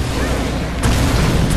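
An explosion in the Resident Evil 6 video game lands as a sharp, loud boom partway through, over a continuous roaring game soundscape.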